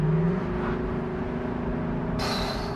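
The naturally aspirated V8 of a Lexus LC 500 convertible revs briefly, then drops to a steady rumbling idle, with a brighter high-pitched tone joining near the end.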